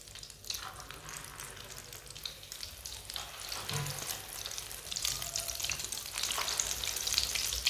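Egg-dipped potato tikkis frying in hot oil, giving a steady crackling sizzle that builds slightly louder as more patties go into the pan, with no talk over it.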